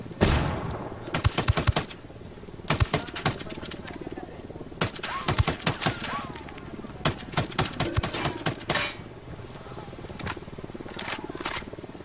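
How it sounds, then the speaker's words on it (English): Bursts of rapid gunfire crackle in repeated volleys during a firefight in the Ghost Recon Wildlands video game, with a flashbang grenade thrown amid quiet gaps between the shooting. "Throwing a flashbang."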